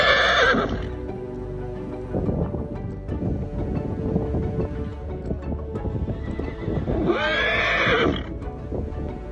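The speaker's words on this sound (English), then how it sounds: "another herd of horses showed up unexpectedly" A herd of horses in the Icelandic wilderness, with two loud, shrill whinnies at the start and near the end, separated by a steady clatter of hooves under gusting wind.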